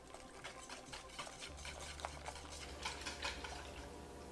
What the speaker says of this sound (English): and whisk it up.